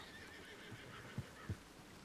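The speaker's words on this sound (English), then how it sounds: "Be careful about the horse." A horse neighs in a video game ranch roleplay, its whinny sitting faint behind ambient game noise, with a couple of soft hoof thuds toward the end and no talking.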